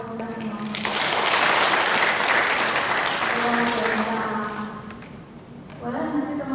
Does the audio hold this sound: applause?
yes